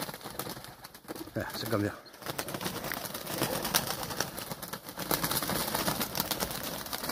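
Pigeons coo and stir near a perch during an outdoor pigeon release, with soft calls and rustling under steady background noise while someone talks over them.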